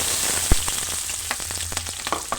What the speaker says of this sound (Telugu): ఉల్లిపాయ పచ్చిమిర్చి వేసుకుందాం ఆయిల్ వేడెక్కిందండి